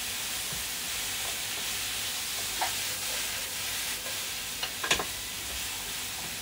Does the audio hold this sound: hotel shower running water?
no